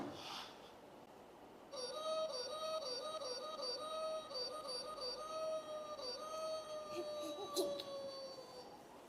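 Wolves howl in long, wavering, overlapping tones that rise and fall and hold steady for several seconds after a quiet start, fairly faint and distant.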